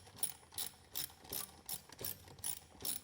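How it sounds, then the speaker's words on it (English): A 3/8 socket ratchet removing shifter bolts on a 2011-2014 Mustang MT-82 transmission. Close, quiet pawl clicks come in about six even bursts, roughly twice a second, with no talking. "we're going to take our 3/8 socket and we're going to remove these 3 bolts on the driver's side of the shifter"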